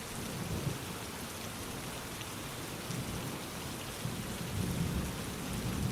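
Steady heavy rain pours down without a break, with low rolling thunder swelling underneath at intervals; a dense, even wash of sound, with no voices.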